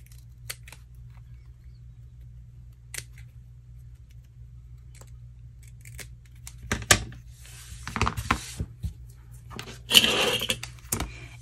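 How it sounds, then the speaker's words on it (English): Quiet at first, then a few bursts of crisp snipping as scissors trim a paper booklet, with paper rustling close by over a low background hum. "I'm just going to take my scissors and come along here and trim it off flush"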